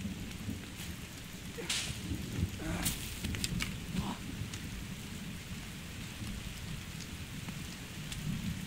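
A thunderstorm rolls through in the survival game The Forest: steady heavy rain hisses throughout while several sharp thunder cracks and rumbles break out in the first few seconds, with no talking over it.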